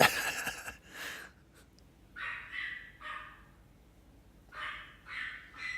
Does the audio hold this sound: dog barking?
yes